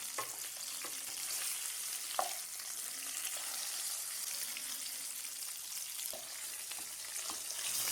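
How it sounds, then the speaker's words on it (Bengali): Rui fish pieces shallow-frying in hot oil until light golden, a steady, fairly soft sizzle with occasional small pops and spatters, no voices. "মাছগুলোকে হালকা সোনালি করে ভেজে নেব।"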